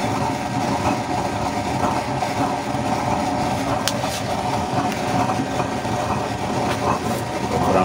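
A homemade used-oil stove burner roars with a blue flame, giving a loud, steady, close-up rushing drone that holds unbroken throughout, with a brief sharp crackle midway.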